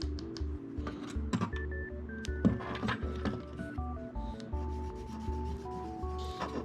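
Cotton swab scrubbing years of dust and grime off a Sega Genesis console, close-up rapid rubbing and scratching strokes with faint mechanical whirring behind, no talking.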